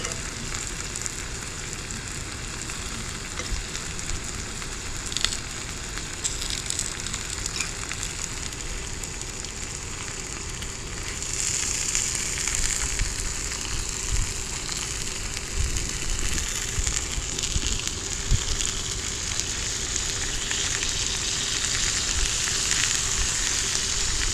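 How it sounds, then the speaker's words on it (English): Steak and cabbage sizzle in a hot cast iron pan, a steady crackling fry that keeps on throughout and grows a little louder and brighter partway through, with no voices. "Took it that long to start to sizzle."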